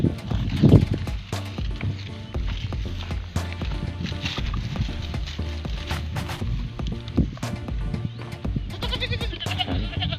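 Goats on a farm bleat over a busy background of shuffling and hoof-like knocks, with a clearer cluster of bleats near the end.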